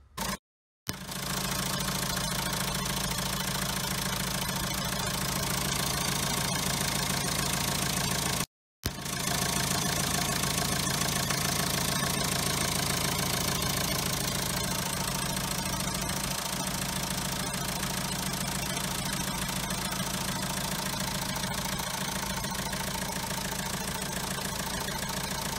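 A car engine with a faulty turbo running steadily with a loud, dense rumble and knocking vibration, briefly cutting out twice before droning on close by.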